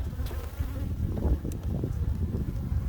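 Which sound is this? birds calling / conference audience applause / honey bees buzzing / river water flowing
honey bees buzzing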